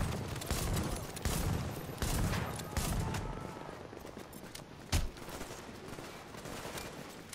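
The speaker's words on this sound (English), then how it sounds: "Shot behind us." Gunfire in The Division during a PvP fight with an M870 shotgun, a series of sharp shots and bursts at irregular intervals, several loud and close with others farther off, ending in quieter background noise.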